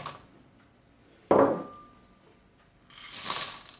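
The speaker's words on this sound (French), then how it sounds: "Donc maintenant je vais rajouter mon chocolat." Chocolate pieces go into cookie dough in a bowl: a sudden clattering rattle against the bowl, a quiet pause, then a second brighter, scraping clatter.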